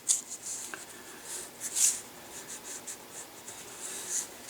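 A thumbnail scores a line along poster board during lower stock molding work, giving soft scratchy strokes in short uneven bursts, close and fairly quiet, with no talking.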